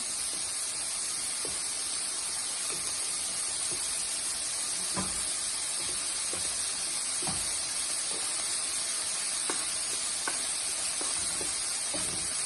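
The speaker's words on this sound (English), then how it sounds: "My vegetables are cooking over here." Vegetables sizzle in a pan alongside cooking mushrooms, eggs and rice, a constant bright hiss with occasional soft clicks and stirring taps, close and steady without talk.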